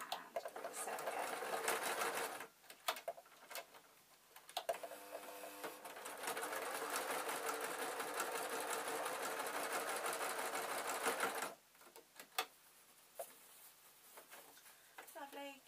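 A sewing machine stitches fabric for a storage box, its steady motor whir running in long continuous bursts with brief pauses between seams, close and moderately loud, with no talking.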